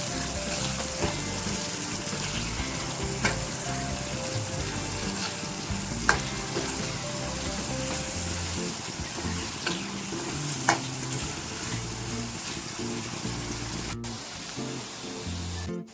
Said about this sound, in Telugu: ఇప్పుడైతే టమోటాలు కట్ చేసి పెట్టుకున్నాను వేసేస్తాం. ఒకసారి మంచిగా ఫ్రై చేసుకుందాం.